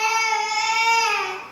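An almost nine-month-old baby boy vocalizes in a long, sustained, high-pitched wail or babble that dominates the moment, fairly loud and close, with no talk over it.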